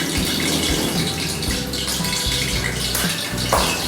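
Tap water gushing steadily into a sink while fish is washed, a continuous close splashing rush with small clatters, no voices.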